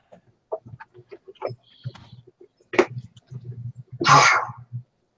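A single short sneeze bursts out near the end, after quiet murmuring and a small throat sound.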